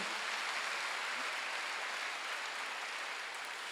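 Congregation applause during a Korean Wednesday church worship service, a dense steady wash of many hands clapping together, filling the whole stretch at even loudness with no talk over it.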